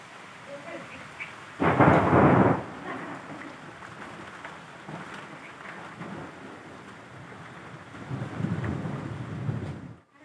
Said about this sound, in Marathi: विजांचा कडकडाट आणि पाऊस झालाय